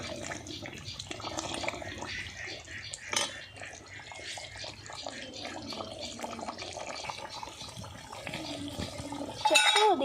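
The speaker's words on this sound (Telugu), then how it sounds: "ఇప్పుడు దీనికి సరిపడా మంచిగా వాటర్ పోసుకుంటే గ్రేవీ మంచిగా వస్తుంది" Water poured into a pan of village-style country chicken curry to make gravy, a steady close filling and trickling with a few drips and pan clinks, and faint voices in the background.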